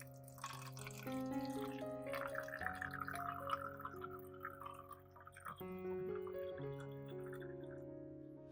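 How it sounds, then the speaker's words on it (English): White vinegar poured into a spray bottle, a quiet gurgling trickle with small drips and a rising pitch as the bottle fills, close and alone against soft background tones. "First, pour white vinegar into a spray bottle."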